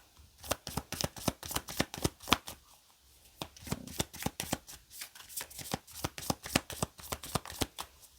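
A deck of flower tarot cards is shuffled up close, giving quiet, rapid papery slaps and riffles in an uneven rhythm with brief pauses, and no voice over it.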